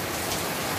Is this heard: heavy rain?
yes